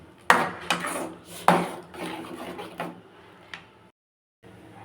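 Potatoes for a milk-based potato curry stirred in a pan: irregular scrapes and a few sharp knocks of a spoon against metal, close by, fading to a brief silence.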